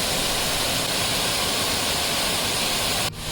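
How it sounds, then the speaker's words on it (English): The mighty Tyrshi waterfall cascading down a sloping rock face from about 500 feet, a dense, loud and unbroken rushing roar that drops away abruptly at the very end. "look at the mighty Tyrshi waterfalls. How beautiful the water cascades down this slopey area."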